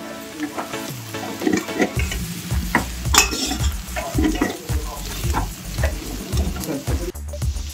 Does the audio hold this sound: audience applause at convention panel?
no